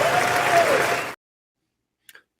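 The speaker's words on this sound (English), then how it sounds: "Thunderous applause there" Thunderous applause for a Netanyahu speech, a dense, loud wall of clapping from a large audience that cuts off abruptly after about a second, followed by silence and a brief faint sound.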